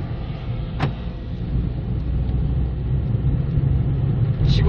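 A 2012 Kia Morning, fitted with aftermarket intake and exhaust parts, accelerates from close by, its engine a steady low rumble that builds slightly in loudness over a few seconds, with no talking.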